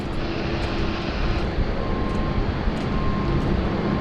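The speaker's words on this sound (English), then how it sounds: "Garuda Indonesia flight 713 just slowly making her way around the corner there at Alpha 1." A Garuda Indonesia airliner, flight 713, rolls slowly along a taxiway at Sydney Airport, its jet engines giving a steady, continuous roar with a faint whine, unbroken and moderately near.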